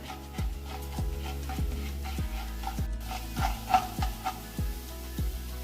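Urad dal roasting in hot oil in a pan for Kerala-style coconut chutney, stirred with steady scraping strokes of a spoon roughly twice a second, each stroke a distinct rasp over a faint sizzle.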